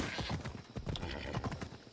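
Horse hooves clip-clopping at a steady riding pace in Assassin's Creed Odyssey, a dense run of soft, close thuds with a brief whinny-like tone, filling the short stretch with no talk.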